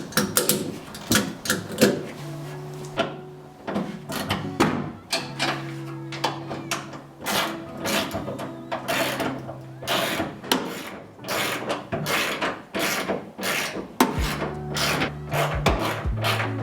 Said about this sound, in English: we're going to use the ratchet strap to kind of bring those 2 sides together